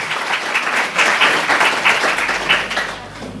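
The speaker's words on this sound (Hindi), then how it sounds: "आप सब तालियों की गड़गड़ाहट से महंत अभिमन्यु जी का स्वागत कीजिए।" An audience claps loudly and steadily for about three seconds, welcoming Mahant Abhimanyu to the stage at a Swadeshi health awareness seminar, then the applause fades out toward the end.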